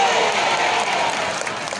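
An audience at a public religious gathering (pengajian) in the village of Sukatani, Bugis, claps in a dense, steady wash of applause that fills the whole moment without letting up.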